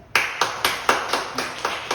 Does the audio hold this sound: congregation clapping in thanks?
yes